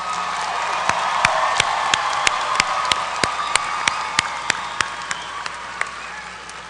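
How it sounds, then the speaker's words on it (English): A commencement audience at Albany State University's Spring 2019 ceremony applauds its graduates. Distinct individual claps ring out at a fairly regular pace over a broad, steady wash of crowd noise. "Let's give our graduates a rousing round of applause."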